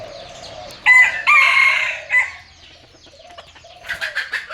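A rooster crows loudly nearby in a long drawn-out call, followed by quieter clucking and a second, shorter crow at the end.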